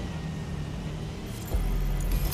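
A ghost car's engine in Watch Dogs Legion idles with a steady low hum, then swells into a deeper, louder rev partway through, with the boosted rumble carrying to the end.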